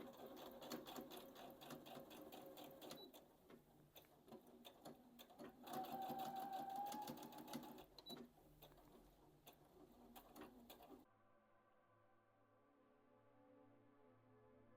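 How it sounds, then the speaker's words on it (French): A sewing machine stitches the hem facing pieces of a jacket, right sides together along slightly slanted edges, in steady mechanical runs with short pauses for about eleven seconds before a quieter, steady hum takes over. "Et maintenant, je vais aller coudre ça."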